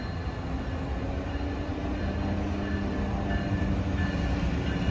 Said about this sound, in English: this is the Richmond Pacific locomotive.